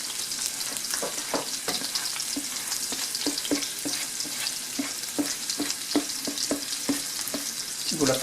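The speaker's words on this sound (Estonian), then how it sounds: "Pann on tulel, või sulab ja siia läheb nüüd sibul peale." Chopped onion fries in melted butter in a hot pan, giving a steady close sizzle broken by regular scraping and tapping strokes as it is stirred.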